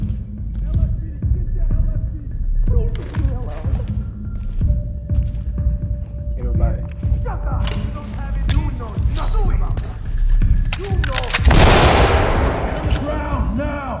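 Gunfire bursts in the tactical shooter Ready or Not during a nightclub mission, sharp repeated shots over thumping club music and game sounds, with a loud close burst near the end while voices talk throughout.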